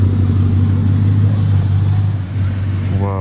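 A Bugatti Chiron Sport idles with a deep, steady engine drone on Place du Casino, then a short rev rises near the end.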